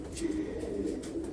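Racing pigeons in a stock loft give soft, low, repeated coos, steady and fairly close, with no talking over them.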